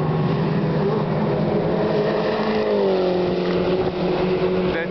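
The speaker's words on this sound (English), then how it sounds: "F430 Scuderia at full tilt." A Ferrari F430 Scuderia's V8 at full throttle on a race track gives a loud, sustained roar that climbs smoothly in pitch, then drops for a gearchange and pulls again, with no talking.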